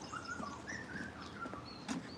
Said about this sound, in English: Can you hear that bird up there?